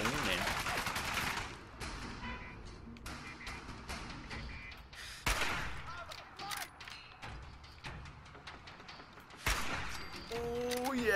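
Gunfire in the Fallout 4 video game arrives in rapid bursts and single loud shots amid game noise and mechanical clatter, with a voice talking over parts of it.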